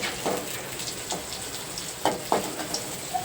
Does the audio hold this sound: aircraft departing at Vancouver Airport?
no